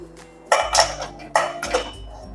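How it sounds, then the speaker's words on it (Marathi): A metal plate set down into a water-filled wok on a gas stove, giving two pairs of clattering metallic clanks, close and sharp, with brief pauses between. "आता ही प्लेट आपल्याला या कढईमध्ये ठेवायची आहे"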